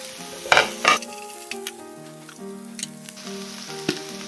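Vegetables with paprika stir-fried in a pan for japchae: steady sizzling with a few scraping stirs and knocks of a utensil near the start, all close and clear with no talking.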